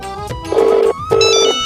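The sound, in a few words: phone ringing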